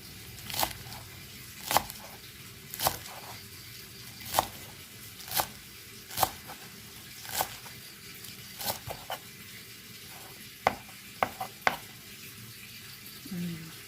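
Shallots being chopped with a knife on a cutting board, sharp, distinct knocks landing at an uneven pace with brief pauses, clear and close over a quiet kitchen background.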